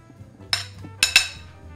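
Metal utensils clink against a bowl as white tuna goes in: three sharp, bright taps, one single and then two close together, over quiet kitchen background.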